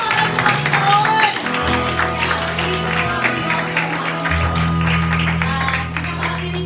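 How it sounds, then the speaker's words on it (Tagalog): A church congregation applauds during a Sunday service, with clapping running under a voice and a sustained low musical tone, steady and moderately loud throughout. "Palakpak po po para sa Panginoon."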